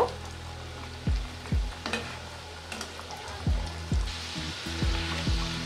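Liver-filled singaras fry in hot oil with a constant, bubbling sizzle. About eight sharp knocks of a utensil against the pan sound through it at close range, and no one speaks.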